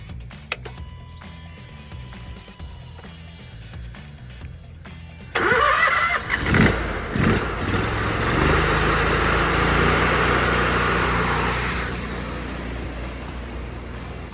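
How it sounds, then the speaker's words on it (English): A 10 GPM pressure washer engine cranks and catches after a quiet start, then roars up to a loud steady running drone that eases slightly toward the end. "So let's start it up and we'll see how many gallons a minute we actually get with the 10-gallon a minute machine"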